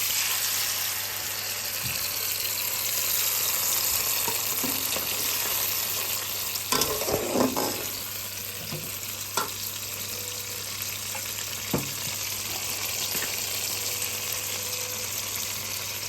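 Ground mustard paste frying in a pan with oil for mustard hilsa fish, a steady soft sizzle throughout with occasional spoon stirring and clinks partway through, no talk.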